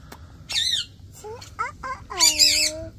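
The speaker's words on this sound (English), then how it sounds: "Jaciann, you hear the birds chirping?" Pet birds chirp and squawk indoors in a string of short, bright calls, ending in a loud, drawn-out squawk close by.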